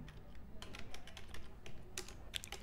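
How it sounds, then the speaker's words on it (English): Someone types on a computer keyboard while entering a username in a browser test setup, producing quiet, close, irregular key clicks, a few sharper taps standing out near the end. "i will type admin"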